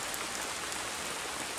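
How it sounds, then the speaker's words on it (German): Steady rain falls continuously on a hiking trail, a dense even hiss of drops pattering on surfaces with no pauses and no voices. "weil es regnet nämlich dauerhaft"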